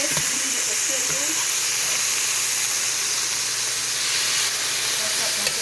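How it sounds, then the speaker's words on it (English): Steady loud sizzling and hissing of sirloin tips frying in a hot pan, continuous and close, with a faint voice underneath. "We need it to sizzle."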